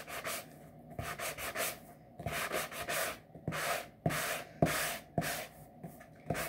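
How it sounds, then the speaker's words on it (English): Rhythmic bursts of sandpaper rubbing hard against paper edges on a canvas, repeated strokes in quick clusters with short pauses, close and clear with no talk. "So I'm just sanding so I can rough up the edges."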